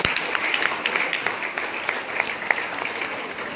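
Church congregation applauding at a youth Christmas service, a dense, steady wash of many hands clapping continuously at close range, with no voices breaking through.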